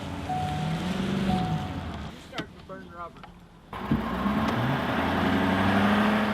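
A truck loaded with cattle, stuck in snow, spins and slides back and forth with its engine straining and wheels whirring in surges, broken by a short quieter gap, with voices heard partway through.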